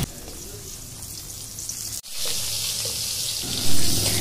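Luchi and fried dishes cook as a puja offering for Saraswati Puja, giving a steady, moderately loud frying hiss with a brief break midway before the sizzle surges back stronger.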